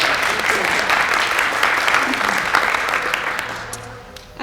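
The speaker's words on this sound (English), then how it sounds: "Can you guys give her a round of applause, please?" A room of guests at a luncheon gives a round of applause, dense steady clapping that thins and fades toward the end.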